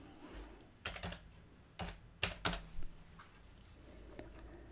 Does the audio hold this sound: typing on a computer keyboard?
yes